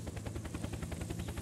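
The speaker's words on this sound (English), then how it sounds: "That's a helicopter." Helicopter in the Unturned survival game, a steady pulsing rotor chop with a low droning hum, continuous and fairly close, with no voices over it.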